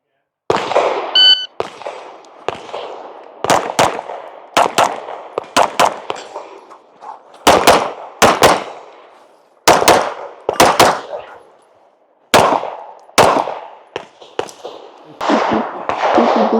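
Pistol shots at a USPSA shooting match ring out close and loud as sharp, irregularly spaced cracks, some in quick pairs, each with a short echoing tail, over about sixteen seconds.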